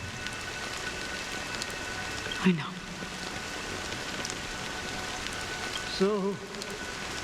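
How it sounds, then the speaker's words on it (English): Steady rain falls in a video game's dream city of Penacony in Honkai Star Rail, a constant soft hiss of drops on surfaces throughout, with a voice speaking briefly over it. "it's still raining."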